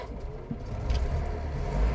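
A Citroën ID19 Safari estate starts up: a low, steady engine rumble at idle, close by and moderately loud, building slightly toward the end with no voices.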